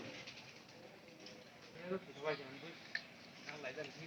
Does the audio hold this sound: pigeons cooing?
yes